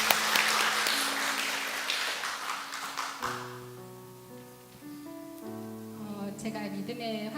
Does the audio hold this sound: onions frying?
no